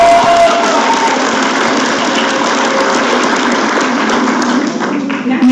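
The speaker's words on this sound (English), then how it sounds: "So let's give them one more round of applause." An assembly crowd at a youth leadership conference's closing session gives a dense, loud burst of applause and cheering for the winners, sustained throughout.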